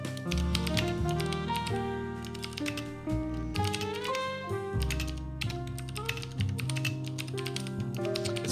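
Rapid, irregular clicking of fingers typing on a computer keyboard during a writing session, heard under loud background music that carries on throughout.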